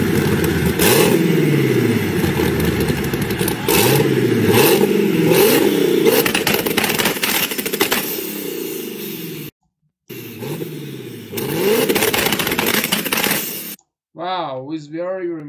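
A BMW engine revs repeatedly with loud, rasping exhaust bursts rising and falling, briefly cutting out, then revving again; a voice speaks faintly near the end.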